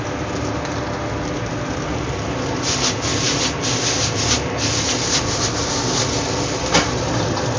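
Chicken chow mein tossed in a hot wok gives a continuous loud sizzling, scraping rush, with brief brighter swells as the noodles are flipped and one sharp clatter near the end.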